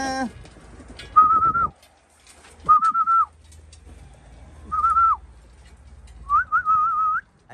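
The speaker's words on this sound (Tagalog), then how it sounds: "tawagin na natin sila at pakainin mga kalapatids" A person calls racing pigeons with repeated short wavering whistles, four separate bursts spaced a second or so apart, clear and close, with quiet rustling and faint bird sounds between them as the birds are fed peanuts.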